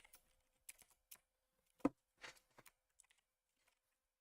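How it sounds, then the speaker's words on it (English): Keys on a backlit computer keyboard are tapped in short, irregular bursts of clicks, close and quiet, with one louder keystroke and pauses between them in an otherwise silent room. "I'm typing in the dark right now, and I always forget which of the number keys is which symbol"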